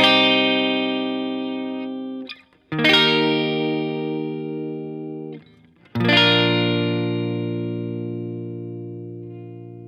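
Electric guitar with distortion and effects plays the chord progression of a song, three long ringing strummed chords separated by brief gaps, loud and alone.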